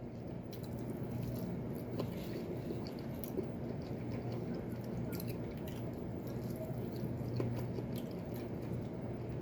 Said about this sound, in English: While I'm chewing here